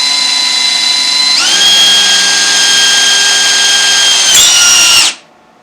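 A power drill bores a hole through metal during basic fabrication, a loud steady whine that climbs in pitch partway through, holds strong, then cuts off abruptly near the end.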